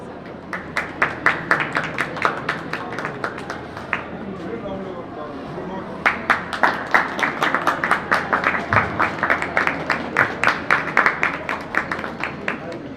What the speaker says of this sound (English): I think we can have a bigger round of applause for the panelists